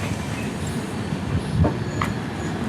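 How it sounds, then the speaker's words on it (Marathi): An Indian passenger train pulling into a station, continuous low rumbling of wagons with faint wheel clatter and a brief squeal, heard up close on the platform with no talk. "तर बघा आता ट्रेन आलेली आहे."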